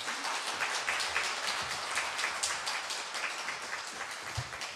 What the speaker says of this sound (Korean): 선교사님께 우리 박수 한번 하겠습니다.